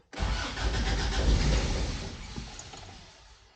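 A classic Toyota pickup engine cranking and catching, roaring loudly to life at once, then settling and fading as it runs briefly, close by with no talk.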